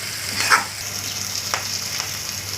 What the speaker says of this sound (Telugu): పచ్చివాసన పోయే వరకు ఫ్రై చేసుకోవాలండి